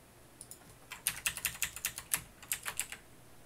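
Typing on a computer keyboard while entering values into a web authoring tool, a close, quiet run of about a dozen distinct clicky keystrokes in irregular bursts with brief pauses, no voice.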